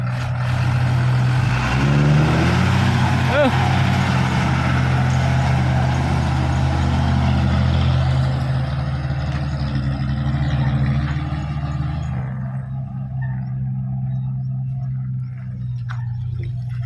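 A loud tractor engine rumbles steadily close by, then fades and quiets toward the end as the tractor moves off.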